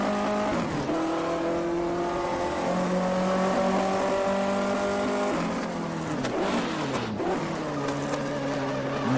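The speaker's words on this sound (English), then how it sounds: "Missed the downshift to 3rd there." A 1958 Formula One car in a racing game at Silverstone, engine howling loud and close as a missed downshift to third makes the revs drop and flare unevenly, with tire squeal along the way.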